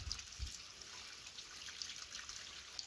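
Water trickles from a mountain spring, a soft continuous babble with a few brighter drips, faint and close, heard alone without talk.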